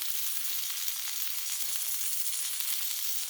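Tri tip searing on a Blackstone griddle gives a steady, close hiss of sizzling fat and juices, broad and even throughout with no voices.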